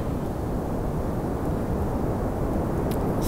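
A rocket launch in Kerbal Space Program gives a loud, steady, broadband roar of engine thrust that holds evenly throughout, with no voices.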